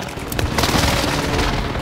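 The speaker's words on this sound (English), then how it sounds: "Airstrike deployed at my mark." An airstrike lands in a video game, a dense rumbling boom with crackling, splintering debris that fills the short clip loudly and without pause.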